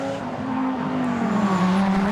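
Dodge Viper GT race car at Bathurst during a 2011 Australian GT Championship round, its engine roaring loud and steady with a pitch that dips slightly partway through, then climbs again.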